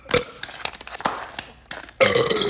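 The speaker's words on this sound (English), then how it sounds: "I told you it was going to be burping" Loud, close burping, several rough belches in an irregular run that ends in a long, strong burp, with background commotion between them.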